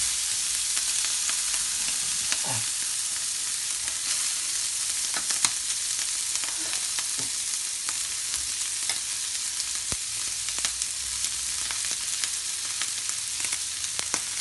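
Curry-yellowed rice frying in a pan for party fried rice, a continuous close, even sizzle broken by faint scrapes of stirring, with no talking.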